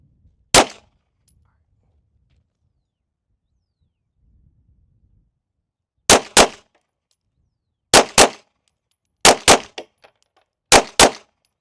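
A CZ Shadow 2 pistol fires nine loud, sharp shots at steel targets outdoors: one lone shot, a pause, then four quick double taps, each crack carrying a short metallic ring.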